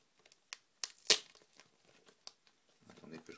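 Tape is peeled off a Transformers model kit with a few sharp ripping bursts and crinkling, close up and intermittent, followed by faint rustling.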